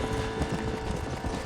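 Horse hooves gallop in Red Dead Redemption, the video game, a rapid close clip-clop rhythm that keeps going for the whole stretch.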